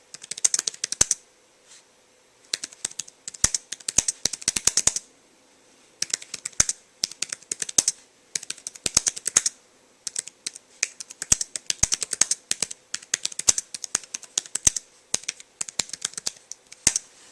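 Typing on a Lenovo ThinkPad 11e Chromebook keyboard, close and crisp, with loud clicky keystrokes in quick bursts separated by short pauses.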